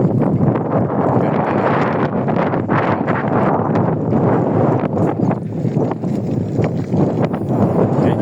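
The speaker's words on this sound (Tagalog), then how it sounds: "presko lakas ng hangin" Strong wind roars and buffets the microphone in a loud, continuous rush of broadband noise, with no voices heard.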